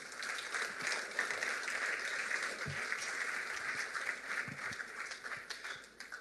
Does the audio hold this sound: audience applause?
yes